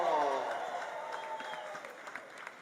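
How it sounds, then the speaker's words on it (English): Crowd at a polo club match cheering and applauding as a player is introduced, a broad wash of clapping and voices loudest at the start and slowly fading, with talk mixed in. "Give him a loud cheer."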